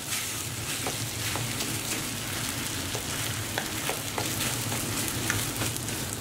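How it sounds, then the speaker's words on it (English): Nasi goreng, Indonesian fried rice with eggs, sizzling steadily in a pan, a dense crackling fry with occasional scrapes as it is mixed, close and constant with no voices. "keep on cooking until the eggs have cooked all the way through"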